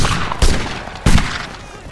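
Two loud musket volleys crack out in a video game battle of line infantry firing on skirmishers, each a sharp broadband burst with a trailing rumble, about half a second apart.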